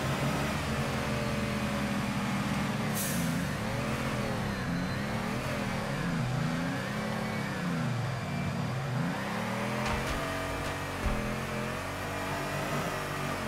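A Nissan S15 drift car in the Torque Drift video game revs repeatedly, its engine pitch rising and falling in rhythmic waves, loud and close, with a sharper shift near the end.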